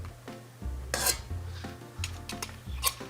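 Two spoons scrape and rub against a firm French meringue, shaping it into a quenelle in a few soft, close scraping strokes over a low steady background hum.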